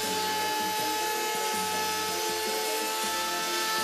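A router table with a quarter-inch round-over bit shaping the edges of a wooden welcome sign, a loud steady high whine with repeated rhythmic dips in pitch as the wood passes the bit, up close, no voices.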